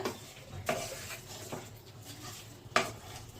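Small mourola fish are mixed with oil by hand for a Bengali chorchori: soft, wet squelching and stirring with a few light clinks against a pot, close up and fairly quiet.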